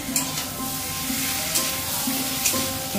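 Fish heads with spices stirred in a pan for a Bengali muri ghonto dish, a soft steady sizzle with light scraping stirs, fairly quiet and without talk.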